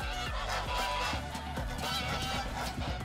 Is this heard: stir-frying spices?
no